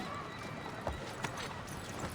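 Horse hooves clip-clop in the game Assassin's Creed III, a faint, steady trotting rhythm under a soft background wash, with a few sharper hoof strikes standing out.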